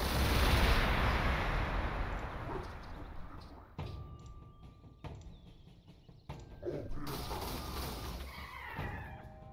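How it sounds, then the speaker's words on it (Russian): Heavy weapon fire from Obliterators using a graviton gun and volkite blaster in Gladius: Relics of War, opening with a loud roaring blast that fades, then several sharp impacts and crackling bursts with a thin electronic whine. "вот так выглядит атака облитераторов одновременно гравитон пушкой и волкитным бластером"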